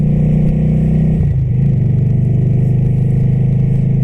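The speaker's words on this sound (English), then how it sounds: "At intersections, you just give a little pump of the throttle" A cruiser motorcycle engine idles steadily and loudly with a deep rumble, then the throttle is briefly blipped, the pitch rising and settling back into a continuous drone.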